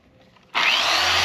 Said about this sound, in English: just go ahead and hit it with the sander